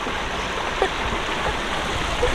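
Cold mountain stream water running steadily in the Romanian wilderness while potatoes are washed in it, a continuous close rushing and gurgling with no voices.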